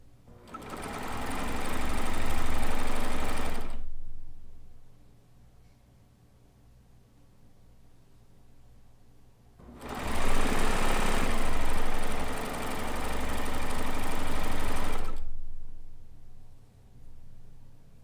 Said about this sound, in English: And I love piecing on the Euphoria.